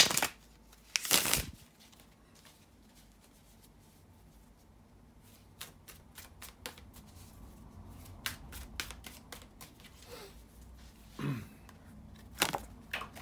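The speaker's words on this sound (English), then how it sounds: "bear with me just a second here to shuffle the tarot cards" Tarot cards riffle and snap in quick bursts, with soft shuffling and scattered taps in between, close by and fairly quiet.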